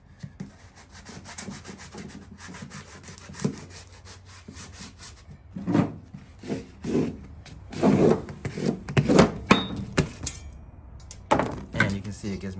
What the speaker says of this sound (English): I'm just going to use my hand to burnish it down.